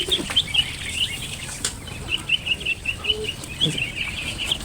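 Ducklings call in a steady run of high, thin peeping chirps in repeated bursts, with scattered low rustling and thumps nearby.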